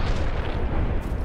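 A grenade goes off in a video game battle, a loud, close, rumbling blast that fills the whole second.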